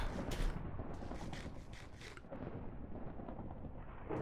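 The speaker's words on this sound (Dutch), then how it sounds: "Ik hoor onweer." Rumbling thunder in a video game, a continuous low roar with a few rolling swells near the start, fairly loud and steady throughout with no talk.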